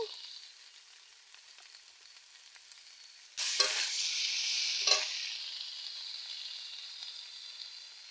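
Potatoes for a spicy fry frying in a pan: a quiet background, then a sudden bright sizzle that swells and holds, with a couple of stirring clatters before slowly fading.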